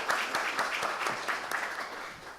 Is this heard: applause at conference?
yes